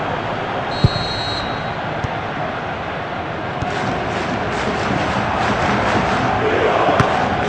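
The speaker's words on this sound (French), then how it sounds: "La foule aura explosé, à juste titre." Stadium crowd roaring steadily after a goal in a football video game, a broad, dense wash of cheering that swells slightly toward the end, with a few sharp clicks.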